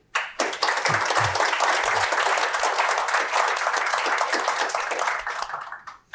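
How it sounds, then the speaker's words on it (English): An audience at an AI meetup panel in Auckland applauds steadily, a dense wash of many hands clapping that swells quickly, holds for several seconds, then fades out. "let's give our panelists a round of applause"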